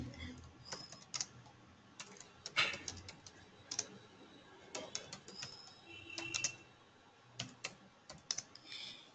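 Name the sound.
typing a message on a computer keyboard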